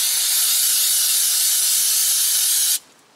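Aerosol brake cleaner sprayed in one steady, loud hiss onto a clean cloth during a brake job on a 2015 Honda Civic, cutting off abruptly near the end.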